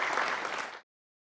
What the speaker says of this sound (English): Give Joe a round of applause.